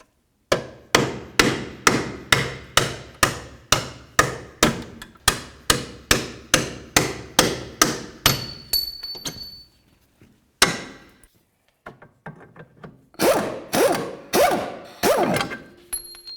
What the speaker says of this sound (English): Now the next thing we need to do is start driving out these 2 bolts.